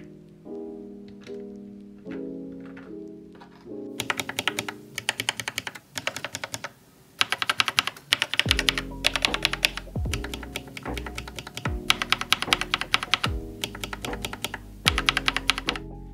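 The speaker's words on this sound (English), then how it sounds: "let me show you the difference between my lube switches and the unlubed ones" Mechanical keyboard switches are typed on, first a few sparse presses and then fast, dense clattering bursts, comparing lubed switches against unlubed ones, close and loud with no talking.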